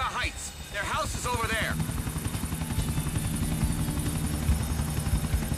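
A helicopter in GTA IV The Ballad of Gay Tony drones with a steady rotor thrum, loud and continuous, as someone speaks briefly over it at the start.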